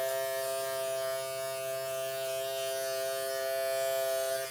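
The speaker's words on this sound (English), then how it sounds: "Allow that clipper to really be able to grab some hair." An electric hair clipper cuts a child's hair, giving a steady, close, high-pitched mechanical buzz that holds for several seconds with no pause and no voices.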